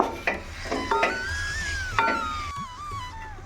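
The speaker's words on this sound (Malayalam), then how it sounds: "ചിക്കൻ ഇട്ട് നന്നായിട്ട് ഇളക്കി എല്ലാം കൂടെ നന്നായിട്ട് മിക്സ് ചെയ്തതിന് ശേഷം" Chicken pieces stirred in a pan while cooking chicken thoran, giving a few soft scraping and rubbing strokes of a spoon against the pan, close and fairly quiet over a faint background hum.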